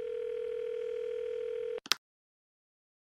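A steady telephone tone hums on the line in an old radio drama, then cuts off abruptly and is followed by a couple of short clicks and silence.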